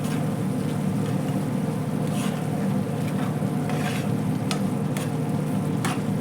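Whole spices (bay leaves, cinnamon sticks, cardamom and peppercorns) fry in hot oil for a spiced rice dish, giving a steady, close sizzle with occasional stirring scrapes.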